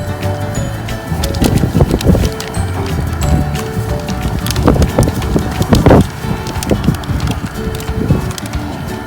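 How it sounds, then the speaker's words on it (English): Steady wind gusts roar against the microphone outdoors at a crawfish boil, with scattered knocks and clattering close by and faint birdsong in the background. "Bit windy today."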